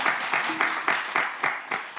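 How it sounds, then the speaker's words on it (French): Applause from a studio audience of women in a TV studio, made of rhythmic bursts of clapping about every quarter second, close and fairly loud for two seconds. "Applaudissez pour vous."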